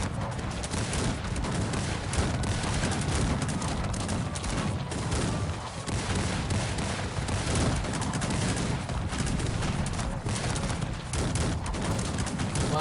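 Cannons firing at buildings in the strategy game Cossacks 3: a dense, continuous barrage of blasts and crackling gunfire that stays loud and steady throughout, with no pauses.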